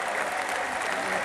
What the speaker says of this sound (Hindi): ताली एकदम जोरदार ताली होना चाहिए।